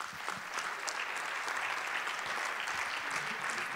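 An audience at an award ceremony applauds steadily, a dense wash of claps held at an even level for a few seconds.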